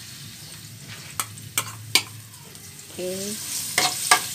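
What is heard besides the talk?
garlic frying and being stirred for fried rice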